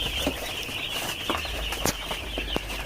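Young broiler chickens in a poultry house give off a steady chorus of high cheeping, with occasional sharp clicks and scuffles in a low hum of farm noise and no talking.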